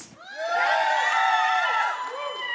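A crowd at a small group gathering cheering for the Chiefs, a sustained swell of voices and whoops rising and holding loudly before tapering off.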